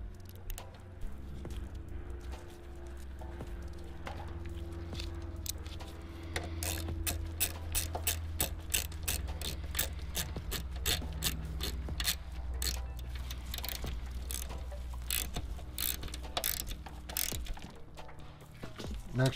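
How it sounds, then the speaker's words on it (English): A ratchet works a ground nut loose on an S197 V6 Mustang during a turbo kit install, giving a long run of quick, close metallic clicks over a steady low hum. "Next, you're going to loosen one of the ground nuts."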